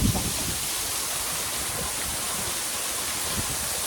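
A waterfall pours at a cave entrance near Phopsandi village, a steady, dense broadband rush filling the whole clip with no pauses and no voices.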